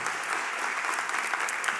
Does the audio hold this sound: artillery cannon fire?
no